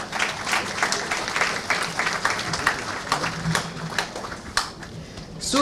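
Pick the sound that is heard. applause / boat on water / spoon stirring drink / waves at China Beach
applause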